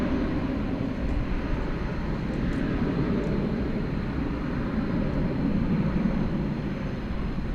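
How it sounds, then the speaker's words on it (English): An American Airlines Airbus A321 jet at DFW Airport, a steady, loud broadband engine roar that holds constant for the whole stretch without pauses. "It's the American Airlines Piedmont livery. It's an Airbus A321,"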